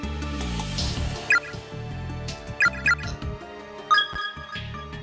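A cell phone rings inside the horror video game Corpse Party, a chirpy electronic tone sounding in several short bursts over moody game music.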